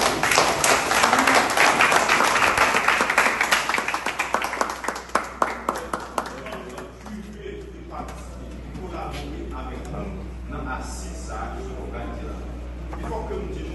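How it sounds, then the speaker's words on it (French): A jury certificate ceremony audience claps loudly in close, dense applause that thins into scattered individual claps, followed by a speaker talking over a low steady hum. "nous marquons ça par le chaud applaudissement."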